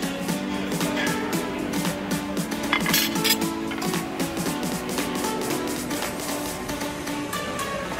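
Pork sausage and breakfast potatoes going into a cooking pan, with clinks of metal and utensils against the pan and a light rattle of dishes under a steady kitchen background.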